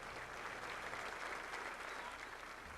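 Over a thousand Republican supporters applaud and cheer as the President enters a room, a steady, dense wash of clapping with crowd noise throughout.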